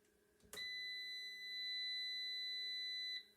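A PowMr 24V 4.2kW hybrid power inverter, switched on from 220 volts, sounds a steady high electronic beep for about three seconds, clear and close, then cuts off.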